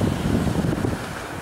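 Gusty wind at a beach on the Gulf of Mexico buffets the microphone in a loud, rumbling rush, briefly easing toward the end.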